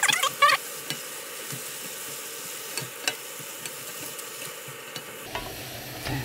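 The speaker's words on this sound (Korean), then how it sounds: "지금 끓고 있네" Radish (mu) stir-frying in a covered pan in its own released water, giving a soft, steady low bubbling sizzle with a few light clinks at the start and a brief lid-like shift near the end.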